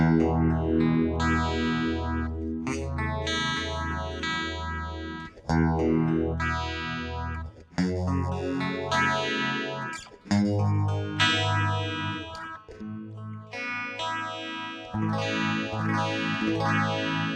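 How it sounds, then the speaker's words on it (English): A 1977 Electra MPC X330 phaser effect on electric guitar, with strummed, distorted chords sweeping in a swirling modulation, loud and continuous, with brief gaps between phrases and no talk. "all of a sudden we have this beautiful phase shifter"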